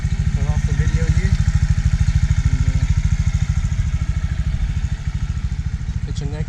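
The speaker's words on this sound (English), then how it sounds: "2018 Honda Grom, 125cc." A white 2018 Honda Grom 125cc motorcycle idles close by, a steady, rapid low putter that runs throughout with even pulses, while a person speaks over it.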